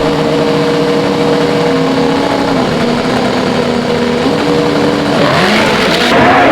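Funny Bike drag racing motorcycles at a 2002 AMA Prostar drag strip, loud droning engines holding steady, then a rising launch surge with shifting pitch toward the end, no talking.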